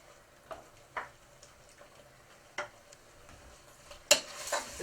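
A spoon stirs lemon juice into a creamy tomato sauce in a pan, making quiet, scattered clinks and scrapes against the metal, with a louder clatter near the end.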